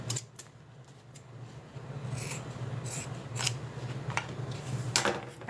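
Scissors snip and rasp while trimming sewing material for a zip-around wallet, giving several sharp crisp cuts over a steady low hum, close and fairly quiet, with no talking.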